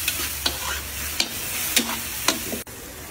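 Breakfast food fries in a pan on a farm with a steady sizzle. It is broken by several sharp scraping stirs of a utensil against the pan, close and fairly loud.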